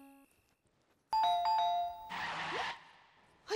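A doorbell at a home in a Hindi TV serial gives a loud two-tone ding-dong, followed by a burst of rustling noise and a short faint sound at the end, with no speech.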